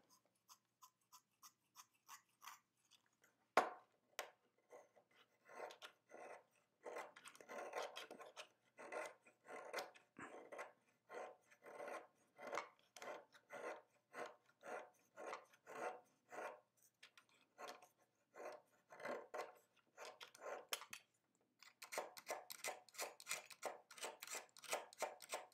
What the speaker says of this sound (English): I think we're going to have to sharpen this.